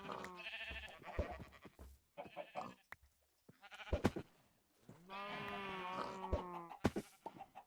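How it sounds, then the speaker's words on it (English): Sheep in Minecraft's OceanBlock2 modpack bleat repeatedly, several separate wavering bleats close by with short pauses between them and no talking. "Not a cow. I want a sheep."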